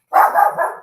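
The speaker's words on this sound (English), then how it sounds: "Here's the dog again." A dog gives one loud, close bark that breaks into two or three quick yelping pulses, all within under a second.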